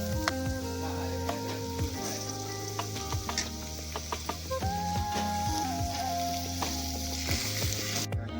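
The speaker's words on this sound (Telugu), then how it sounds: "అన్నీ కొంచెం వేగాక ఇప్పుడు చికెన్ వేసుకోవాలి." Chicken frying in a hot pan with spices, a loud continuous sizzle with repeated stirring scrapes, and a steady hum underneath.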